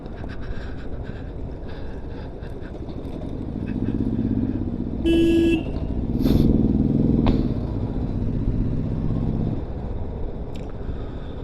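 A motorcycle engine rumbles steadily while riding in Nepal, with a brief jolt and clatter midway as the bike hits a pothole, over wind noise.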